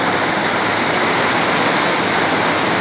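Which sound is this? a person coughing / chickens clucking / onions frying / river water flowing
river water flowing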